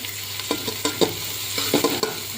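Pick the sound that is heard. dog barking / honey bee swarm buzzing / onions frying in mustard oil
onions frying in mustard oil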